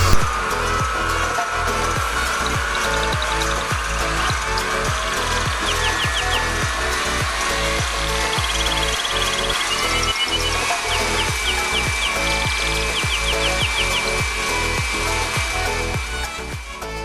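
Stand mixer running steadily as it whisks egg whites, speed raised gradually from slow, with sugar added in three stages, a continuous motor whir with rhythmic whisk clatter, close and loud throughout.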